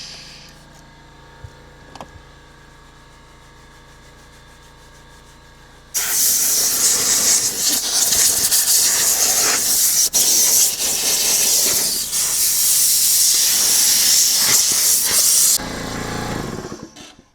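A vacuum cleaner roars on loudly and steadily with a bright, hissing whine for about ten seconds inside a Ford Escape car interior, then cuts back to a quieter hum.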